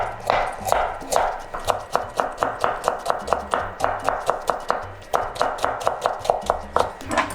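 Rapid, steady knife strokes julienning carrots on a cutting board, each sharp chop close and distinct in a brisk even rhythm, with a brief pause midway before the chopping resumes.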